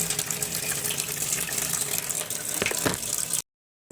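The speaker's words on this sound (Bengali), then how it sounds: "এইভাবে 4-5 বার আমি জল দিয়ে মুসুর ডালটা ধুয়ে নেব কষতে।" Red lentils are rinsed under running water in a kitchen, a steady close splashing gush that cuts off abruptly near the end.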